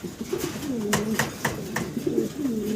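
Low, rolling pigeon coos come in quick succession, close by, with a few soft clicks and rustles between them.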